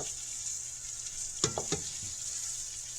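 Chicken cordon bleu browns in a frying pan over fairly high heat, a constant close sizzle broken by a few brief clinks and scrapes of a utensil in the pan.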